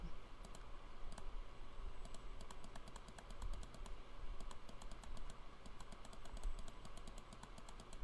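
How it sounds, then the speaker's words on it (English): Rapid clicks in irregular runs, like a computer mouse or keys being pressed, sound close over a steady background hum. "You probably can hear all my mouse clicks."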